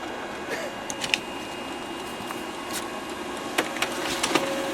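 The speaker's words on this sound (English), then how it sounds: "It's friggin' printing." A Brother MFC-7220 laser printer printing a page gives a soft, steady mechanical whir, with faint clicks and paper-feed ticks scattered through it.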